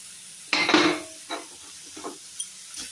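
Potatoes tipped into a pan of fenugreek greens with the gas off, a short clattering burst of pieces landing and scraping, followed by a few softer stirring knocks against the pan, fairly quiet overall.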